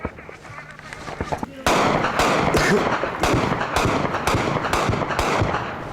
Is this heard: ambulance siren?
no